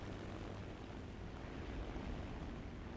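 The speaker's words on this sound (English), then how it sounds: "you get the I-15, and there's three different ones to pick from, and as you can see, it's a biplane" A biplane's propeller engine in the War Thunder reserve-tier I-15 fighter drones steadily and loudly throughout, a continuous rough roar with no voices over it.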